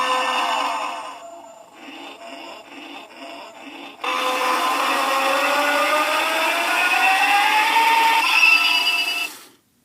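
A Kamen Rider Kuuga DX Arcle toy belt plays its electronic Titan form sound: a stuttering buzzy pattern that swells into a sustained, bright, whirring tone with a rising pitch, then cuts off.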